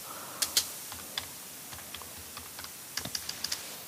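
Light key taps on a computer keyboard, typing text into a business card layout, come as scattered single clicks and a short quick run near the end, quiet and close over faint background hiss, with no talking.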